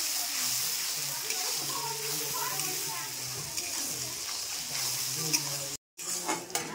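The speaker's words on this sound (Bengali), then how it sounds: "এই দেখো কড়াইতে দিয়ে দিয়েছি তেল আর এই যে তারপরে দিয়ে দিলাম পেঁয়াজ" Onion frying in hot oil in a wok, a steady close sizzle with occasional stirring scrapes, cutting out briefly near the end before resuming.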